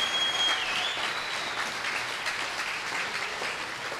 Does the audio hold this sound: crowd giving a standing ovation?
yes